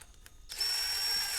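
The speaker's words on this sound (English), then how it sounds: "I'm going to take and just kind of snug these down just a hair with an impact." Impact wrench running down intake manifold bolts during an LS engine swap on a K5, a short burst of whirring hammering that starts abruptly after a brief quiet moment and continues steadily up close.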